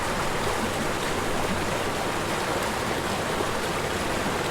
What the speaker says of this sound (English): just sit back and listen to the water